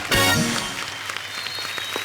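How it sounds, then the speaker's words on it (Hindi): Studio audience applause on a Kapil Sharma comedy show, a steady broadband patter that begins after a brief musical sting and carries on at moderate level for about two seconds. "इस बात के लिए जोरदार तालियां बनती हैं।"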